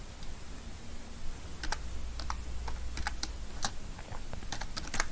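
Close, steady typing on a computer keyboard while entering data in Tally ERP9 accounting software, with irregular bursts of key clicks and short pauses between them, no voice.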